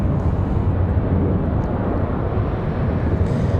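Frontier Airbus A321neo departing Raleigh-Durham, a steady loud broadband jet roar holding constant throughout with no talk.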